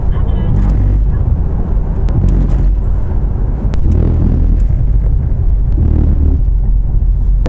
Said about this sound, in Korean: 노면 소음과 잔진동을 들려드릴게요.